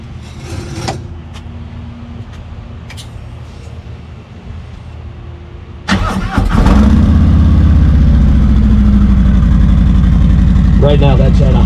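After a few seconds of quiet rustling, a 2020 Harley motorcycle with a slip-on exhaust cranks and fires up near the microphone, then settles into a loud, steady, deep high-idle rumble.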